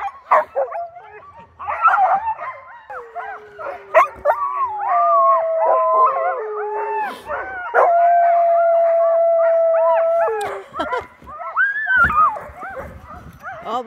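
Sled huskies at a mushing site in Ivalo, Finland, howl, yip and bark in a loud, overlapping chorus, with long sustained howls rising over excited yaps close by, and people talking now and then.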